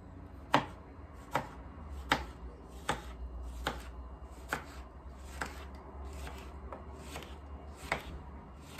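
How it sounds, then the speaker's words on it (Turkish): A knife chops an unpeeled cucumber on a cutting board in about a dozen crisp, evenly spaced strikes, close and clear over a quiet background. "Kabuğuyla beraber salatalığı doğrayacağım."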